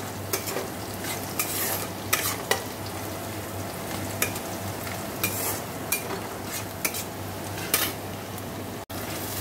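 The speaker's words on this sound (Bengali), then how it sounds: "তো চলো এদিকে পেঁয়াজটা ভাজা হোক, একটু ভাজা হলে মশলাটা দিয়ে দেবো।" Onions fry in oil in a pan before spices and chicken are added, producing a continuous close sizzle punctuated by regular sharp scrapes and clinks of stirring, with a steady low hum underneath and no speech.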